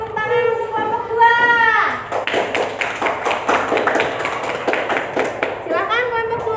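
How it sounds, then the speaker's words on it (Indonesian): Classroom pupils give a round of applause for a group of classmates, several seconds of brisk, uneven clapping from many hands, preceded by a teacher's voice and followed by more talking and children's voices. "kita beri tepuk tangan untuk kelompok 2"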